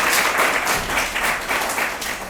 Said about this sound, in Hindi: आप सब के लिए बहुत ज़्यादा तालियां